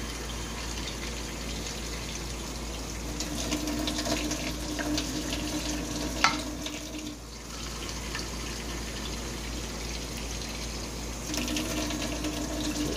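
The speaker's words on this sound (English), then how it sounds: "so we'll start with 3 cups of water" Water is poured steadily into a cooking pot while making a Mexican pork chop and rice dish. The gushing sound runs continuously at close range, with a brief clink partway through and no talking.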